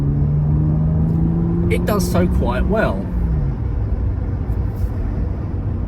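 A 1990 Mercedes 300SL R129 with its 3-litre engine pulls under acceleration, a low, steady engine drone beneath someone talking.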